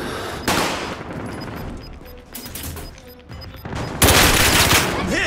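Gunfire in Call of Duty, bursts of automatic and single shots with sharp crashes, loud and close, with the heaviest volley near the end, under faint game chatter.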